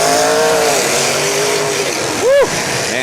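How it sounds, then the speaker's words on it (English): A demolition derby car's engine roars loudly and steadily at close range amid track noise, with a brief tire squeal near the end, while an announcer talks over it. "Miller's got an engine, brother"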